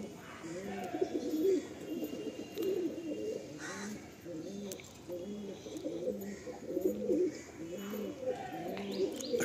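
Kalanka pigeons in a loft in South Kolkata coo repeatedly in soft, rhythmic, rolling phrases, fairly near and steady, with some faint talking in the background.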